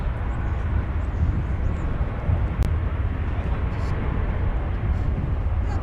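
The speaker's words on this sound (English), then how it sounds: "we do have in line now American Airlines Flight 777, which is an Airbus A321" An American Airlines Airbus A321 jet at DFW Airport makes a loud, steady engine roar with a strong low rumble, continuous and close throughout.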